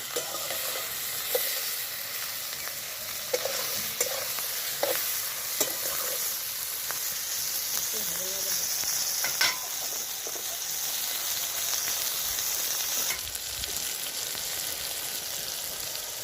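Spice paste of green chili, ginger and Kashmiri chili stir-fried in a pan for a light pabda fish curry: continuous crackling sizzle with regular spatula scrapes and taps against the pan, close and fairly loud.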